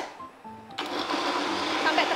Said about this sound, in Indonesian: Nah, ini kita blender lagi dulu.